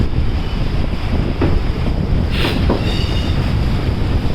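Steady rumbling train noise on the Pamban bridge over the sea, with continuous wind buffeting the microphone, a broad roar throughout with a couple of brief rattling bursts.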